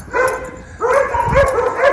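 Several dogs bark and yip on a residential block, with sharp barks coming in bursts at moderate distance, some overlapping, alone without talk.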